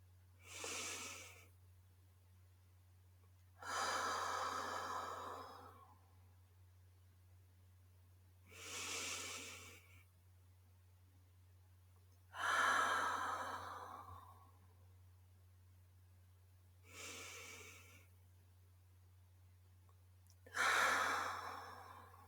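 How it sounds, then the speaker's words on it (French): Six slow, deep breaths during a guided meditation, each a broad airy inhale or exhale spaced a few seconds apart over a steady low hum, with no talking. "Prenez quelques respirations profondes pour ancrer ces intentions."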